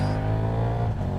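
A KTM 1390 Super Duke R EVO motorcycle accelerates hard, its loud, close engine note rising as a steady, grunty roar with no talk.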